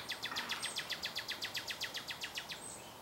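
A bird sings in the distance beside a park trail at Collins Hill Park, giving a fast, even run of repeated chirps that lasts several seconds. Steady outdoor background noise sits beneath it.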